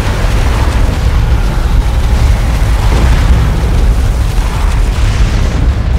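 An orbital strike explosion in Dawn of War 2: Retribution rumbles loud and continuous, a dense low roar of booms with no pause, no talk over it.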